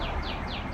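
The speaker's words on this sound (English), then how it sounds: "What the frick is that bird?" An unidentified bird calls outdoors, repeating a quick descending chirp about four times in steady rhythm over a steady background hiss, moderately distant.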